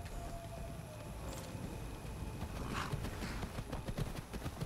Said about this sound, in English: And Erik's horse seems to be okay